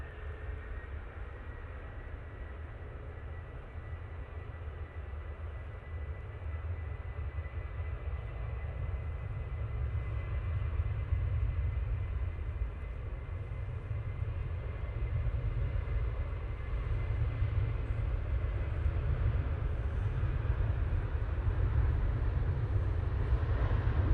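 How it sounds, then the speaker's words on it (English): A Ryanair airliner at Manchester Airport produces a steady, building jet roar. It stays broad and continuous, grows slightly louder toward the end, and no one speaks over it. "Right, here goes the Ryanair."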